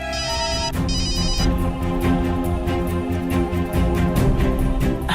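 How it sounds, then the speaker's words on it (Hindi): A telephone ringtone rings out in a repeating electronic melody, fairly loud and steady with no talking. "सिद्धार्थ का फोन से।"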